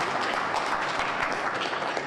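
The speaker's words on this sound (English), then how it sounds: "And you see, and they clap." An audience claps for a president, a dense continuous patter of many hands at moderate loudness with no talking over it.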